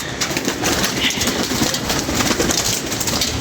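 Around nine homing pigeons arrive at a loft, their cooing and fluttering mixed into a loud, dense, continuous wash of nearby noise.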